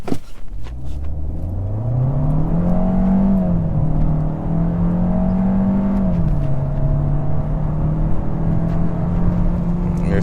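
A 2023 Kia K5 GT Line, about 3,200 pounds with an automatic transmission, accelerates at full throttle. The engine drone climbs steadily, dips briefly at a gear change around the middle, then keeps pulling. It is heard from inside the cabin with no talk.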